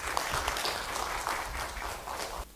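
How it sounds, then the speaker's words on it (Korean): A lecture audience at KAIST claps loudly for an incoming professor emeritus, a dense, continuous round of applause that cuts off abruptly near the end, with no talking. "큰 박수 부탁드리겠습니다."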